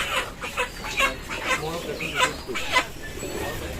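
Several chickens cluck and squawk in quick bursts nearby at a poultry shop, with voices talking in the background.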